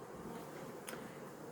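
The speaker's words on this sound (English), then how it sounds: "There's lots of bees in that hive" Honey bees buzz faintly around a hive in a steady, low insect hum with no voices.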